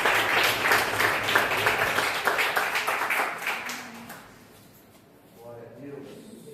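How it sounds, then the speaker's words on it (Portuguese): Church congregation claps loudly for Jesus at a worship service, a dense wash of applause that fades after about four seconds into quieter room sound with faint voices. "E as palmas bem fortes para Jesus"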